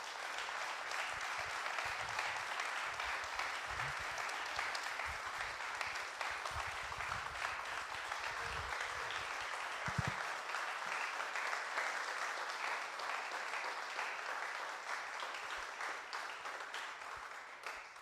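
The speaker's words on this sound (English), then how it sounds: "let's give Mike another round of applause" A conference audience gives a keynote speaker another round of applause, a long even wash of clapping heard from a distance that stays steady throughout, with a low rumble under the first half.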